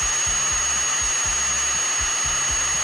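A 1.4 mm drill bit boring a tiny hole during a repair on a 2005 Dodge Sprinter T1N van, a steady high whine with repeated low pulsing bursts as the bit bites, loud and close with no talking.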